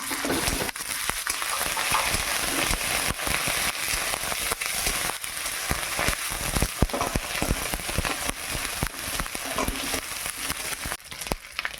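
Ginger garlic paste frying in a pan crackles and spits loudly and without a break, a dense sputter with sharp pops running throughout.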